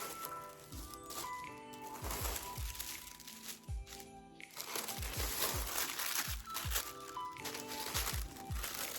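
Soft fabric dust bags for Dior J'Adior nude slingback pumps are handled up close, giving steady crinkling and rustling with sharp crackles and thumps throughout.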